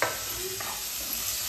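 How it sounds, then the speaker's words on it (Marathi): Finely chopped onion and tomato sizzling in hot oil in a home kitchen, a steady close frying hiss with faint stirring, no talking. "कांदा टाकलाय बारीक कापून तेलामध्ये, आणि इकडे बारीक टमाटर आहे कापलेला"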